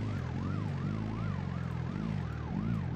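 A wailing emergency vehicle siren in the video game BeamNG.drive rises and falls in steady cycles over a low engine rumble, loud and continuous throughout.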